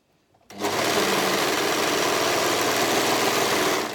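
An overlocker sewing sweatshirt shoulder seams starts abruptly and runs at a steady, fast whirring hum, loud and close, with no talking.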